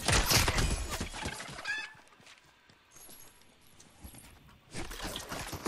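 Chickens cluck and flutter in a Lara Croft video game, bursts of busy clucking and scuffling at the start and end with quieter scattered sounds between.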